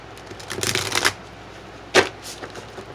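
Shuffling of a Psychic Tarot card deck, two close, crisp riffling bursts with a brief pause between them and no voices.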